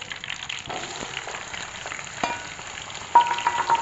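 Onions fry in a pan with a steady crackling sizzle, interrupted by scraping stir sounds and a sharper metallic clink near the end.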